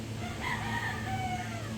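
Birds call faintly over a steady background hum, with a drawn-out crowing-like cry among the sounds.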